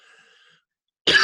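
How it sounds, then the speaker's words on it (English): A single sharp, close cough bursts out at the end after near silence, preceded by a faint tonal hum. "You've been coughing a lot since yesterday"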